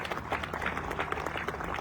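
Audience clapping at a fundraising dinner in Sierra Leone, a steady patter of hands from a crowd in a hall, moderately close and continuous.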